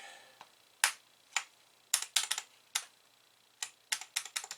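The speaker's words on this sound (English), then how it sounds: "And then we'll have all the large keys installed." Large keys being pressed onto an Atari 130XE computer keyboard during refurbishment: sharp plastic clicks and snaps, single and in quick clusters, close and fairly quiet against a near-silent background.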